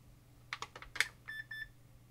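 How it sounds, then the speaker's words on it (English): An Epson HX-20 laptop powers on with a few soft clicks followed by short, quiet electronic beeps, heard close in a silent room. "we got our Roger beep and it gives us our menu"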